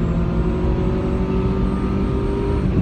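A 1996 Toyota Corolla AE110 kicking down into second gear and accelerating hard, the engine droning loudly and steadily with a rising tone, heard from inside the cabin without talking.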